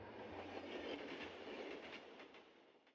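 Subway train in the Gunpoint video game, a steady broad rumbling roar with faint rhythmic clatter, moderately loud and fading slightly at the end, with no voices.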